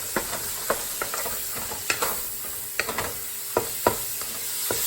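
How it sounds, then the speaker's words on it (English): Ground beef browning and being stirred in a pan, a soft steady sizzle under a run of sharp scraping clicks as the spoon breaks up the meat, close and fairly quiet with no talk. "I'm just going to brown this ground beef"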